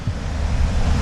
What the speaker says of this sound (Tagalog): maririnig mo yung tunog ng ilog